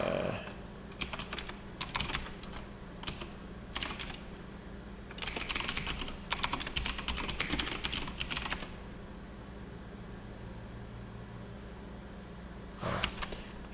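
Someone types on a computer keyboard in short bursts of close, crisp key clicks separated by quiet pauses, with one last brief flurry near the end.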